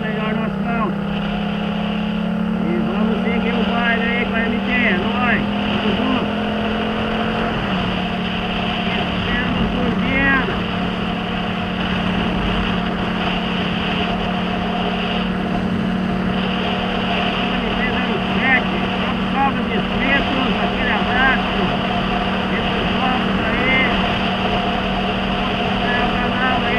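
Wind noise while riding a Yamaha MT-07 motorcycle, a constant broad rushing roar over the engine's steady drone, with a rider talking intermittently.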